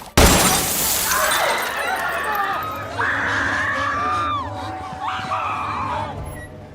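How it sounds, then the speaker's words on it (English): Empty glass bottles burst in a cafeteria deep fryer with a loud sudden shatter, followed by high panicked screams and crowd commotion in waves. "puts some empty glass bottles inside a deep fryer"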